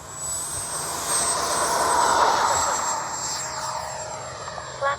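A Freewing 80mm F-22 Raptor RC jet takes off with a loud, steady ducted-fan whine that swells and holds near the listener, a high tonal whistle running over it throughout.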